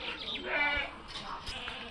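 A goat bleats on a goat farm, a brief nasal cry close by, with faint farm background noise around it.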